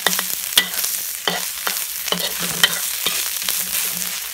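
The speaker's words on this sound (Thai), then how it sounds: "ผัดไปอ่อนเครื่องเทศหอมครับ" Spices stir-fried for a Thai fish larb made with silver barb, a close sizzle broken by regular scraping strokes of a spatula in the pan, steady rhythm and no talking.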